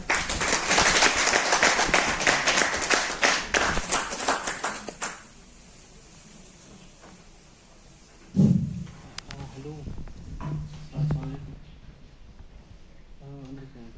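A crowd at a book launch in a school hall applauds to welcome an author, loud massed clapping for about five seconds that then cuts off, leaving a quiet room where a voice begins.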